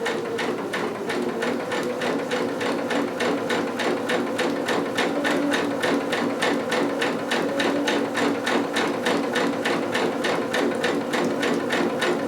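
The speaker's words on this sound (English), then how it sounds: "slightly less than 5/8 on the longest stitch that you have on your machine" A home sewing machine runs steadily on its longest basting stitch, a fast even mechanical chatter with regular needle beats, close and continuous without pause.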